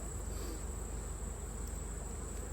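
A steady, dense buzzing of many honeybees, winter bees in a hive during inspection, continuous and even throughout, heard up close.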